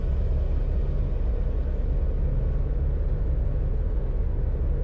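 Steady, loud low rumble of a storm on a scorching 93-degree planet in No Man's Sky, a continuous dense roar with no breaks or voices.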